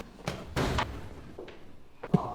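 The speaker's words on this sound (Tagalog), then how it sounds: "isara mo ang pinto!" A door slammed shut indoors in a dramatic scene, giving a sharp, heavy thud followed by a lighter knock, over a low background hum.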